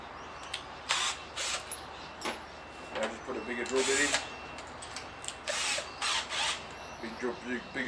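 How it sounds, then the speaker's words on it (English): Power drill bursts in a shed as holes are enlarged with a bigger bit, several short whining runs of a second or so each, close and fairly loud, with brief talk between them. "Now just put a bigger drill bit in."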